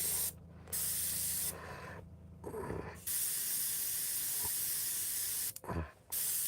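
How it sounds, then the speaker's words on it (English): Airbrush spraying paint gives a continuous close hiss that stops and starts several times, with brief quiet gaps and small handling clicks between the bursts. "just take your airbrush, fill it in the spot"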